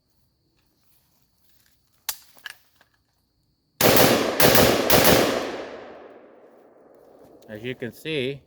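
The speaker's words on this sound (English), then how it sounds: "rapid fire in this thing is not that hard" A PSA AK-105 rifle fires a loud, close burst of rapid shots, preceded by a couple of faint clicks and followed by a long echoing decay, with someone speaking briefly at the end.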